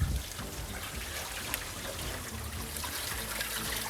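Water poured into a pressure autoclave over filled preserving jars of canned shashlik, a steady close splashing and trickling stream that runs unbroken throughout without voices.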